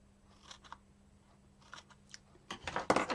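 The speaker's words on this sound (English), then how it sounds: "I'm just going to cut a little," Small paper strips are snipped with scissors for an easel fold card. A few faint, close cuts come first, followed by a louder burst of crisp snipping and paper handling at the end.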